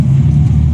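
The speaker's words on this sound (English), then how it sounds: "This is quite a noisy car. I can hear the engine like a" Car engine droning inside a noisy cabin, a loud, steady low rumble with a constant hum and no talking.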